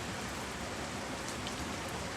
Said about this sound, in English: perhaps it's not a storm, perhaps it's just rainy weather